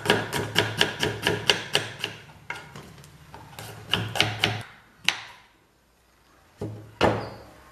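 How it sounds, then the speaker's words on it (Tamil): Rapid, evenly spaced knife chops cutting an onion into small pieces on a board, slowing into a few isolated sharp strikes separated by silence. "வெங்காயத்தை சிறு சிறு துண்டாக இந்த மாதிரி நறுக்கிறோம்."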